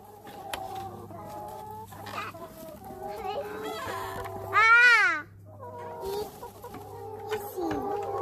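Chickens cluck and chatter up close in a steady, uneven series of short calls, with a louder rising squawk midway. Faint voices may be present at times.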